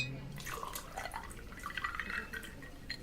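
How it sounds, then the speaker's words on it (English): White Zinfandel poured over ice in a glass, a soft close trickle of liquid with faint drips and light clinks, quiet and steady without any talk. "All right, fine. I'll pour my own damn drink."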